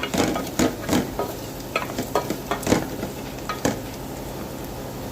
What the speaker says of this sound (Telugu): పప్పు బాగా ఉడికిపోయింది కదా, మనం దీన్ని తాలింపు వేసేస్తున్నాం